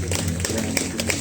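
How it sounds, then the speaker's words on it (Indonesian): An audience at an arts registration event in South Sulawesi claps its hands in a steady, dense patter of taps from many people, fairly close and continuous. "Tepuk tangan dulu."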